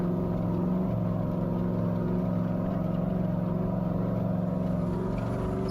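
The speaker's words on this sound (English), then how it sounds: "you end up with a lot of tire spin, a little bit of RPM, just to get up here to the saddle" An off-road race vehicle climbs a steep canyon to a saddle on the King of the Hammers qualifying course, its engine a steady, loud droning roar with modest RPM and tires spinning, continuous and unbroken.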